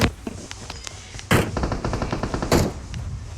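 Video game gunfire crackles in two loud bursts about a second apart, with a rapid string of lighter shots between them, close and sharp.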